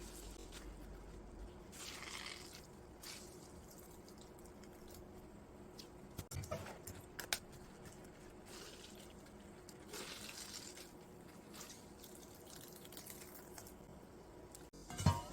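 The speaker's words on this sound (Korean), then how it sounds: "가지를 꼭 짜줍니다." Salted eggplant wrung out by hand, giving soft wet squishes and dribbling water in quiet, intermittent bursts, with a few sharper clicks and no talking.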